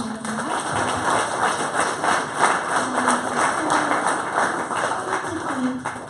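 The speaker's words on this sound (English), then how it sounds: "So let's just give a warm round of applause for Tim" Audience at an entrepreneur talk event applauds for Tim Fung, a steady wash of many hands clapping for several seconds, with voices faintly mixed underneath.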